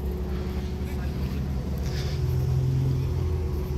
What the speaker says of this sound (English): we've got some Porsche action. It's a Boxster S. It's coming out.